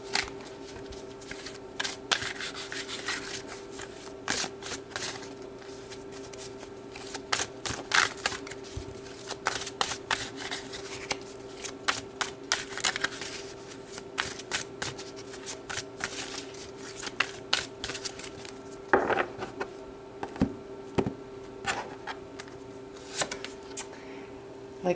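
Tarot cards are shuffled and drawn at close range, a steady stream of soft riffling, flicking and tapping with occasional sharper slaps as cards are pulled and laid down, under a faint constant hum.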